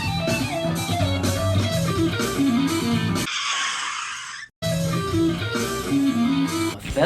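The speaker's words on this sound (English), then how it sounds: "That sound is called a diminished 7 arpeggio." Electric guitar playing a diminished 7 arpeggio, fast rippling note runs over a full backing, cut by a short burst of noise before the playing resumes.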